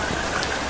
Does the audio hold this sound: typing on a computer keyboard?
no